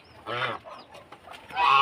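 Ducks and chickens call out nearby, loud clucking and honking bursts with short gaps between them, as they are called to be fed rice paddy.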